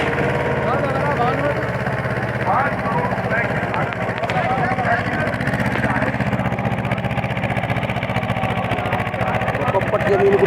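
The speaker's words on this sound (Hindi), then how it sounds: "हाँ जोर तो बहुत लगा रहा है तो लोड भी नहीं मार रहा। महिंद्रा जीवो" A Mahindra Jivo 245 DI 4x4 mini tractor engine runs under heavy load while tilling ground, giving a loud, steady, throbbing diesel drone throughout with people talking over it.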